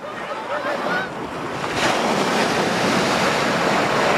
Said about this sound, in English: Ocean tides play tricks with visitors, quickly and quietly swallowing the stone path that connects the island with the mainland